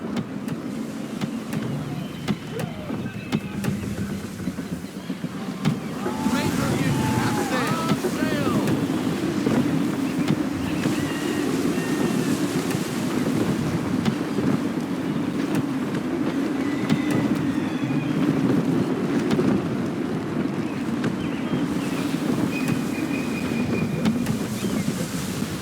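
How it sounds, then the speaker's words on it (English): Sailing ship at sea in Assassin's Creed III, with a steady broad rush of gusty wind and water washing around the hull, rising and holding loud from about six seconds on, with faint creaks and calls drifting over it. "Wind looks to be shifting. Stay alert, Connor. Gusty winds can be difficult to manage."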